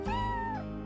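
A cat in the video game Chrono Cross gives a single clear, sustained meow that lasts under a second and falls away at the end, close and loud with no talking.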